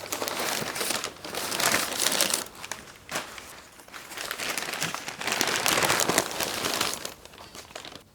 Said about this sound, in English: Let's get it cut away from the bubble wrap.